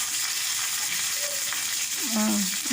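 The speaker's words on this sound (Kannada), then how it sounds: "ಜೀರಿಗೆ, ಸಾಸಿವೆ, ಒಂದೆರಡು ಉದ್ದಿನಕಾಳು ಹಾಕಿಬಿಟ್ಟು ಲೈಟಾಗಿ ಒಂದು ಒಗ್ಗರಣೆ ಹಾಕೊಳಕತ್ತೀನಿ ನೋಡಿರಿ" Cumin, mustard seeds and a few urad dal crackle and sizzle in hot oil for a chutney tempering, a steady close frying hiss with a brief stirring scrape near the end.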